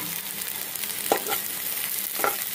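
Mushrooms cooking in a pan with fried onion, a steady soft sizzle under stirring, with a couple of brief scraping stirs standing out; no one speaks.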